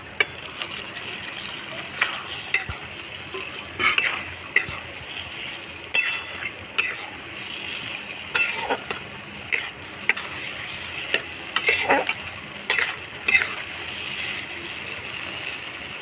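Okra stir-fried in a pan with yogurt and spices sizzles steadily while a spatula scrapes and stirs in repeated, uneven strokes, each with a light clink against the pan.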